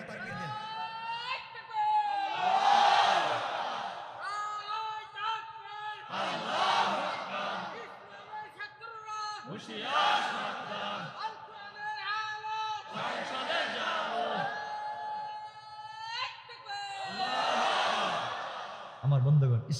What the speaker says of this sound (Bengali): জোরে আওয়াজ করে বলেন লিল্লাহে তাকবীর